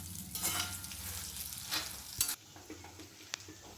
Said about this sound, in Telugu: ఇప్పుడు ఇవన్నీ బాగా వేపాలి పప్పులన్నీ బాగా వేగిపోయినాయి